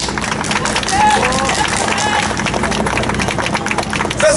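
Audience clapping at a warlord-troupe comedy contest during the 68th Nagoya Festival, a dense steady patter from a crowd filling the whole stretch, with a murmur of voices mixed in.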